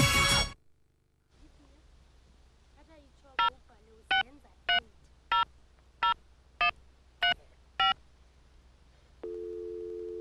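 A Dutch phone number punched in on a touch-tone telephone: eight crisp, evenly spaced keypad beeps after a brief burst of sound, followed by a steady tone, with no talking over them.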